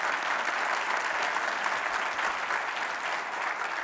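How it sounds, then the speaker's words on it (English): Sustained applause from an audience, a dense steady patter of clapping that holds evenly throughout. "give Imam Zaid Shakur a round of applause"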